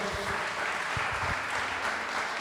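A church congregation claps together at the close of a worship service, a quiet steady patter of many hands lasting a couple of seconds with low thumps underneath.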